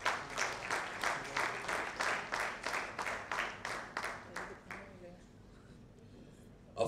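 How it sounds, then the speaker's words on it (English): Audience at a Resvo Villa launch event clapping for guests in a steady, rhythmic beat, moderately near, then tapering off into a quiet room after about five seconds. "Please give them a huge round of applause."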